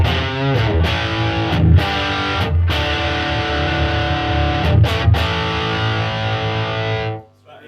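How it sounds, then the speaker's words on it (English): An electric guitar plays through an MXR Il Torino overdrive pedal set as a light boost, loud, thick sustained chords with a few brief breaks between strums, ringing out to a sudden stop at the end. "when I kick on my MXR Il Torino overdrive, I've got it set as like a little boost setting"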